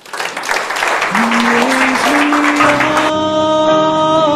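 A church congregation applauding, a loud, dense patter of many hands clapping together that fades as sustained organ or keyboard tones swell in beneath it.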